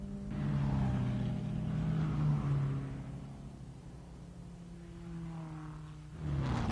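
Lancia Ferrari Formula 1 racing cars of 1957 at the Nordschleife round the carousel, their engines a loud sustained droning roar that fades somewhat mid-way and swells again at the end.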